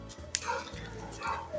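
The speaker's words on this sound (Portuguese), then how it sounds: "Eu tô ouvindo bastante cachorro latindo." Neighbors' dogs bark and yip in a rural countryside setting, a few short barks at moderate distance mixed with faint background sound and some talk.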